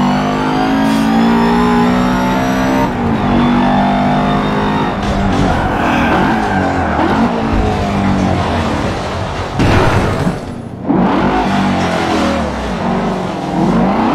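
A race car engine in a racing video game screams near redline in first gear, loud and sustained with shifting pitch, a brief dip and tire squeal, filling the whole stretch without talk.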